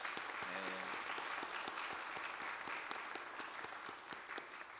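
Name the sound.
applause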